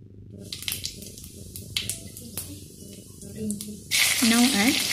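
Cumin seeds dropped into hot oil in a pan for sago khichdi, giving a bright, crackling sizzle that swells loudly near the end, with scattered light pops and kitchen clatter before it.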